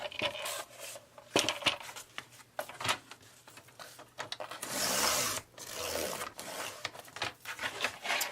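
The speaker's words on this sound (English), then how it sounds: "I'm going to begin by cutting some 5 by 7 pieces to create the journal with." Printed cardboard pieces cut to 5 by 7 inches on a paper trimmer, with repeated close rasping and sliding strokes and a louder sustained swish of the blade through the board midway.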